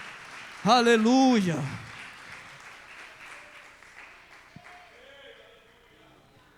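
Church congregation applauding during a sermon: a voice calls out briefly over sustained clapping, which then fades into quieter, scattered applause and room noise.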